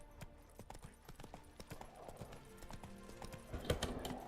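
Hooves of the horse Roach clip-clop in a steady trotting rhythm in The Witcher 3, close and fairly quiet, with a brief louder burst near the end.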